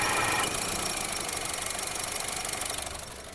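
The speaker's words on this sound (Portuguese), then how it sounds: "Quando liga o ar-condicionado, ó como tá roncando" A car engine idles with the air-conditioning compressor running and droning loudly, giving a steady, rough, pulsing hum that holds level close by, then eases slightly near the end; no one speaks.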